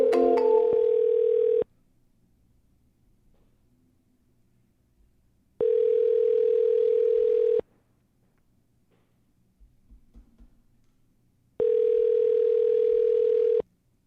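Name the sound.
telephone ringing tone on outgoing call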